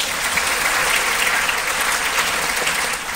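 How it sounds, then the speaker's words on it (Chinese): An audience at a Xiaomi AI smart speaker launch event in Taiwan gives a sustained, dense round of applause that stays steady and full throughout, with no one speaking over it. "我们给个掌声好吗？"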